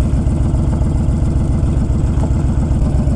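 A motorcycle engine idles at night by a cemetery, a loud, steady low rumble with a regular throbbing pulse that continues throughout without revving.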